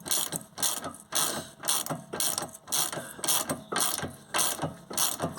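Rhythmic ratcheting clicks from a Sealy bush kit wound by hand, drawing a rear axle bush into a Vauxhall Astra axle; bursts repeat steadily about every half second, close and moderately loud, with no talk.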